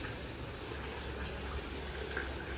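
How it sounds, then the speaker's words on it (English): A small water fountain runs steadily at an old Spanish monastery, a continuous soft trickle and gurgle of flowing water heard close and alone. "We have a cool little water fountain here"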